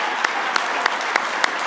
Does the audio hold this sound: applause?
yes